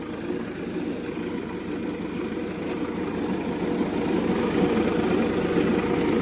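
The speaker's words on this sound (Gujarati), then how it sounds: "તો ટ્રેક્ટર ખોદતું જાય છે" A steady, loud diesel tractor engine digging a field rumbles continuously with a low chugging vibration, running at a constant pace with no voices.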